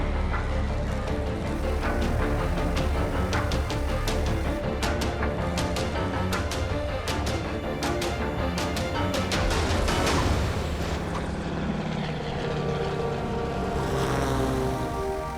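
A single-engine plane lands on a desert runway during a storm, its propeller engine a loud, steady drone that fills the whole stretch, with rushing wind noise layered over it.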